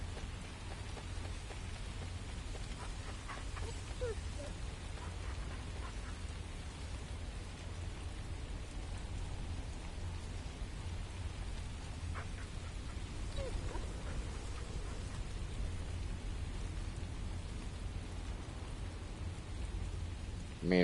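Steady rain pattering down in the video game The First Descendant, a constant soft hiss of drops on surfaces with faint low rumbling beneath, continuous throughout with a few brief tonal blips.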